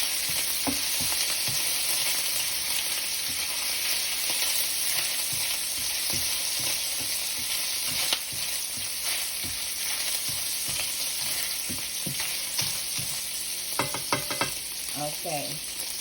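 Sausage frying in a pan, a steady close sizzle running throughout with scattered pops and clinks of stirring, busier clatter near the end, no talk.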